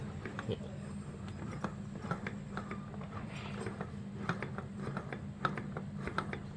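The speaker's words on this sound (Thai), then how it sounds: "เอามือหมุนหน้าคัดเนี่ย ถ้ามันดังคอกดังคอกนั่นแหละครับ คอมแอร์ไม่มีกำลังอัดแล้วนะครับ" A car air-conditioning compressor with no compression left, turned over by hand, gives a series of dull mechanical knocks and clicks over a steady low hum.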